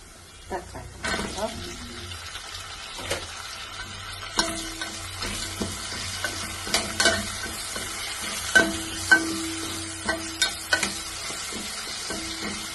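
Vegetables for a cauliflower and potato gravy fry in very hot oil, giving a crackling sizzle broken by repeated stirring and scraping clatter, with bursts of spitting that rise and fall throughout.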